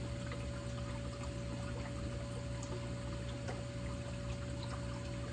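Reef aquarium equipment bubbling in a home tank, a steady close-up wash of trickling water over a constant pump hum, with no one speaking.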